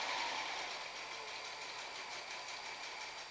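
A quilting sewing machine on a machine quilting frame runs fast and steady, a continuous bright mechanical whir with no pauses, close by.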